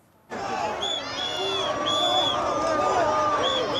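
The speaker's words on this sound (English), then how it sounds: "Super Bowl celebrations in Philadelphia turned chaotic when Eagles fans poured onto the streets after last night's victory against Kansas City." Eagles fans celebrating a Super Bowl win against Kansas City in the streets of Philadelphia, a dense roaring crowd with shouts and whistles rising sharply and staying loud throughout.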